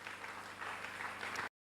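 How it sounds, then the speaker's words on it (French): A church congregation at a French-language prayer service breaks into applause, a dense, steady wash of clapping from many hands lasting about a second and a half before cutting off abruptly. "Est-ce qu'on peut acclamer pour la parole du Seigneur?"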